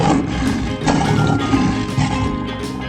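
A lion in a 3D animal slide video game lets out a loud, continuous, rough roar lasting about three seconds, dense and close, with no talking over it.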